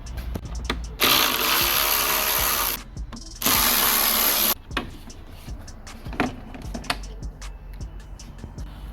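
Two Torx 25 screws being run out of a VW Golf Mk7 front grille with a power driver, two loud sustained whirring bursts separated by a short pause, then scattered clicks and handling knocks of plastic trim nearby.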